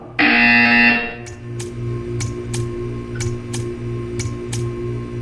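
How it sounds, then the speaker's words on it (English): A loud electronic buzzer blares for about a second, then stops, followed by a steady low hum with evenly spaced ticking clicks, in Portal 2. "When you hear the buzzer, stare at the art."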